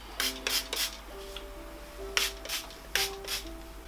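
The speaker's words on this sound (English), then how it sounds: "then I'm going to spray a little bit of heat protector in" Heat protector spray misted onto hair from a pump bottle: several short hissing bursts in quick groups, close and fairly faint, with a quiet electrical hum underneath.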